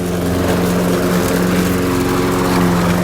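An old Briggs & Stratton Craftsman lawn mower engine runs steadily nearby, a loud continuous droning rumble with no pauses or voices.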